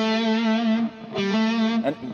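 Electric guitar sustaining long, distorted notes through an SD9 distortion pedal, two held tones with a brief break between them and a short pick attack near the end, loud and alone.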